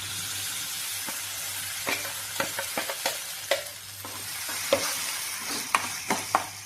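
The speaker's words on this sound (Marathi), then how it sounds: "आता याच्यामध्ये वाटलेली पालकची पेस्ट टाकायची" Steady frying sizzle of ground spinach paste in an uncovered pan, with intermittent scraping clicks of a spoon stirring through it.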